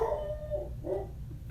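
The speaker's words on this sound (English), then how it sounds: "There goes Celia barking again." A dog gives a couple of short, whining yelps or howl-like barks over a low background rumble, fairly close.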